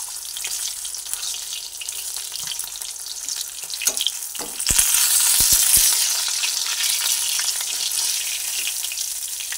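Rui fish fries in hot oil with a steady, bright sizzle throughout, broken by a few clinks and stirs as pieces are lifted from the pan, with no talk.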